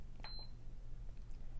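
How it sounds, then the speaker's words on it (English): A single short, high-pitched electronic beep from an AquaticLife Pulse LED aquarium light controller sounds once, followed by quiet room hum. "You'll hear a beep"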